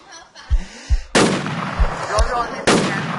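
Gunfire in the video game Survivalz: several sharp shots crack out in an uneven burst, with a couple of heavier blasts, loud and close over a busy game background with no clear talk.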